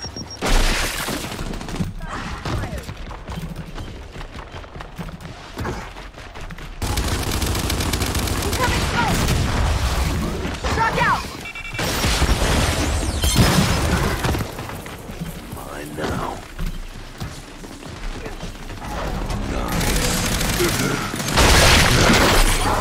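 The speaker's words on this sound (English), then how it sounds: "Incoming frag!" Gears 5 combat with a frag grenade explosion amid heavy gunfire, loud sustained bursts and booms across the stretch, with a voice talking under the battle noise.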